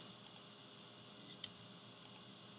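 Computer mouse clicks, faint and close, coming singly and in quick pairs across a quiet room background.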